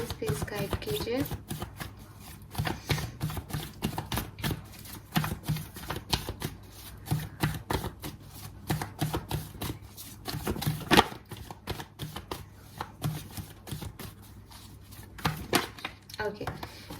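Tarot cards shuffled by hand in quick, crisp riffling bursts, close and repeated across the whole stretch with brief pauses between flurries, while a voice talks quietly beneath.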